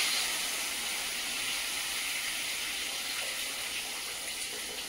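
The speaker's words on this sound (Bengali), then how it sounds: "এই পর্যায়ে জলটা দিয়ে দেবো।" Water poured into a simmering vegetable and fish curry makes a steady, close hiss and rush that continues evenly throughout.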